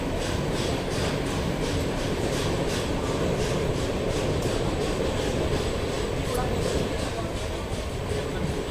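The Mysuru–Kacheguda Express pulls in at platform 2 at Kengeri station, a steady loud rumble and rolling rail noise that continues throughout.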